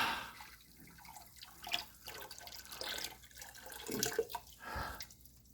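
Water poured from a gallon jug into a container, a broken splashing and trickling stream with uneven surges and small drips, close and moderately quiet with no talk.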